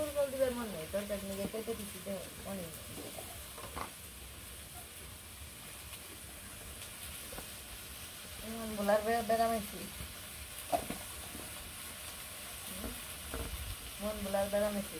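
Leafy greens fry with salt in a pan, giving a steady low sizzle with occasional stirring scrapes, while someone talks intermittently over the cooking.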